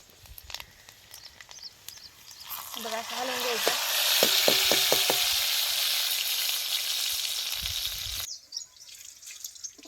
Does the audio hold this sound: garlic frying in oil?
yes